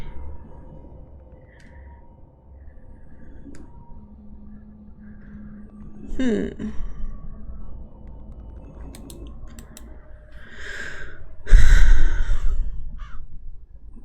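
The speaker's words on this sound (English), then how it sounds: "Shut up, crows." Crows caw in the video game Dead Secret, a few harsh calls scattered over a quiet, faintly humming background, with a louder burst of cawing near the end and a creak midway.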